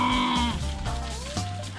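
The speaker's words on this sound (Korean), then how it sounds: "얘네들은 확실히 알겠다. 염소다" Several goats in a small mountain village bleat close by, with a few overlapping, wavering calls in quick succession.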